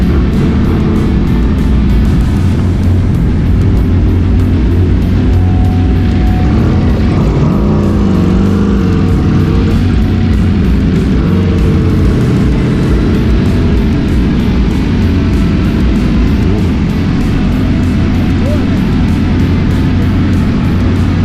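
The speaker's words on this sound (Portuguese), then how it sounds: "Tinha muita moto, motos de vários lugares" Many motorcycles gathered at the Urubici Moto Festival, an event with more than 5,000 bikes, produce a loud, continuous low engine drone that holds steady for the whole stretch with no voices.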